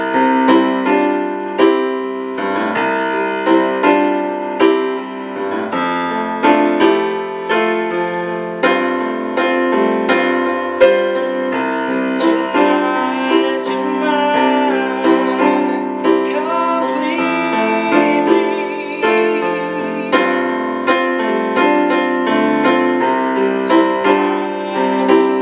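Live recording of a song, with steady piano and singing. The dense music holds an even loudness for about twenty-five seconds, with no talking over it.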